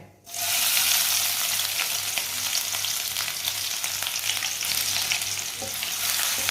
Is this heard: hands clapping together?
no